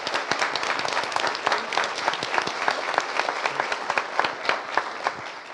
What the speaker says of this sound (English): If we can give a round of applause to our moderator and our panel.